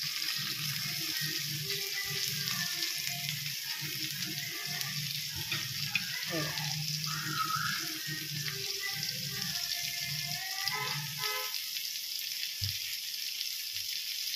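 Fish fries in hot oil in a pan over medium heat, a steady close sizzle with scraping as pieces are turned, then the crackle thins out near the end.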